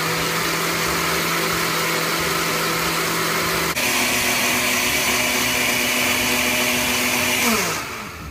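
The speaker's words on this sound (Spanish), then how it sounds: "Ahora lo vamos a pasar a la licuadora y vamos a agregar 1 litro de agua o 1 litro. Vamos a molerlo perfectamente." A blender grinding birdseed with a litre of water runs loud and steady, its motor pitch shifting midway as the load changes, then winding down at the end.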